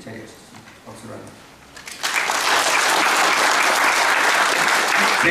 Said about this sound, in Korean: 박수로 합니다.